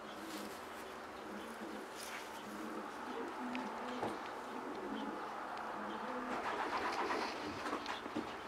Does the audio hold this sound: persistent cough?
no